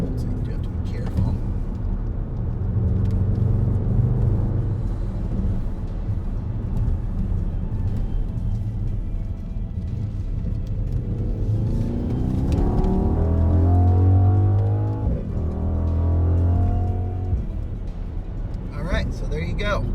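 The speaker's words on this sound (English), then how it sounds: "Its 4-liter V8 sounds like a NASCAR engine" A 2021 Mercedes-AMG GLE 63 S Coupe with a 4-liter V8 drives along steadily, its deep engine note swelling into a louder rev partway through, with a voice talking over it.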